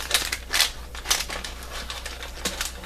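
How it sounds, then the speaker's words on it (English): Several sharp snips and crinkles of scissors cutting through plastic CD packaging, close by, in quick irregular bursts. "Assuming I can get my scissors around it."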